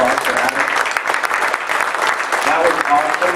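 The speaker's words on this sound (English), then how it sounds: "Can we give a round of applause for Adam?" An audience applauds a presenter at a 1 Million Cups Wichita startup pitch event, a loud, dense round of clapping that runs steadily throughout, with a voice briefly audible beneath it.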